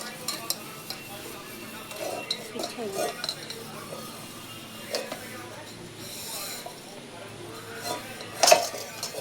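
Dishes, pots and cutlery being washed by hand at home: intermittent clinks, scrapes and clattering of metal utensils over running water, with someone talking throughout.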